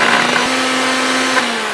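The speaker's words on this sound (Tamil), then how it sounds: "கொஞ்சம் ஆறுனதுக்கப்புறம் மிக்ஸி ஜாரில் போட்டு ரொம்ப ஃபைனாக அரைக்காமல் சாதாரணமாக அரைச்சி எடுத்துக்கலாம்." A mixer grinder grinds ginger, whirring loudly and continuously, its motor drone steady with a slight dip in pitch near the end, no voices present.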